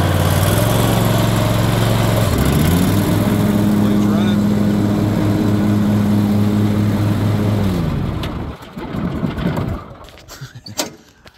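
A Toro Titan MX 4800 zero-turn mower with a Kohler engine and 48-inch welded deck runs loudly up close, its pitch shifting as it revs, then cuts out and leaves scattered clunks and rattles.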